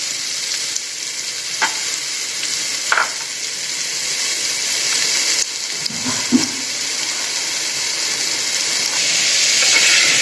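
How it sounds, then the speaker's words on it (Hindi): Chopped bottle gourd and carrot sizzle steadily in a pan over high flame, with a constant frying hiss broken by a few soft stirring knocks. "एक मिनट तक हम इसको तेज फ्लेम पर भून लेंगे हल्का सा।"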